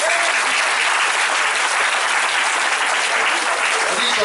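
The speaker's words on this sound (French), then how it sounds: "Est-ce qu'on peut acclamer Jésus?" A church congregation claps loudly and continuously to acclaim Jesus, a dense, even wall of applause filling the room from start to finish.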